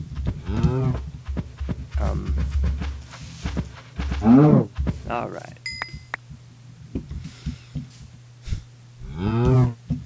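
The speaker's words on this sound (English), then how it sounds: "Ah, there's another cow." Minecraft cows mooing in the video game, several loud drawn-out moos near the start, middle and end, with a voice speaking briefly between them and small clicking game sounds.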